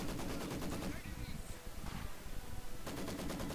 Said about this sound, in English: This is kind of funny how the mortars and the MGs can pin each other.